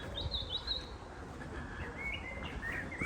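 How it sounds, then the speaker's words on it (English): Birds sing in a village garden in Shireoaks, North Nottinghamshire: clear, fairly faint whistled chirps and short trills over quiet outdoor background noise. "The birds are singing."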